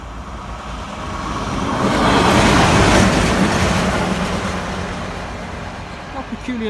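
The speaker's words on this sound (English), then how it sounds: "Which is a very peculiar looking tamper" A railway track tamper machine rumbles past, swelling to a loud roar midway and then slowly fading.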